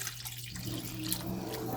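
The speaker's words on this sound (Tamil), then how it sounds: "1 கப்பு தண்ணி ஊற்றிக்கோங்க." A cup of water is poured into a pan of paneer butter masala base, a steady close rushing splash of liquid running continuously under a faint low hum.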